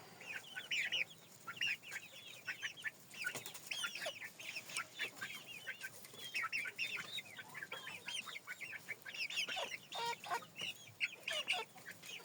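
Chinese silkie and frizzle chickens clucking busily and continuously, a flock of overlapping calls close by with no talk.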